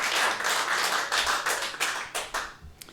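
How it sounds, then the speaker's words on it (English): An audience at an evening political announcement event applauds the title sponsors, with dense, sustained clapping that thins toward the end, a few louder individual claps standing out. "so they deserve a round of applause also."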